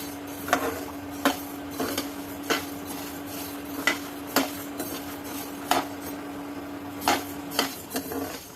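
Whole spices for homemade garam masala dry-roasting in a pan, stirred with regular clinks of a metal spatula against the pan over a steady background hum, about a dozen sharp knocks.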